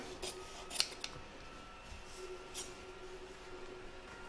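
Scissors snip through embroidered fabric and stabiliser while making an in-the-hoop dog poop bag dispenser, a few quiet, separate cuts and rustles in a still room.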